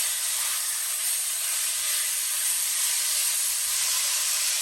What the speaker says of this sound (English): we're gonna stir fry this up just till we brown it up